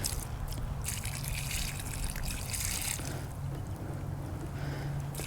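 Water from a bucket poured over a freshly planted bare-root plant, a steady close splashing and trickling that runs continuously outdoors, with no talking.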